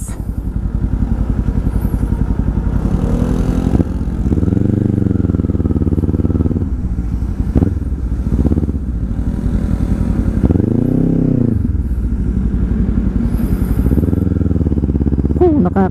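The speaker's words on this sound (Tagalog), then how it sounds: "Magmumotor dito lang sa palikuliko" A Kawasaki Z400 motorcycle is ridden along winding roads, its engine loud and close, revving up and easing off repeatedly with gear changes and rising and falling pitch throughout.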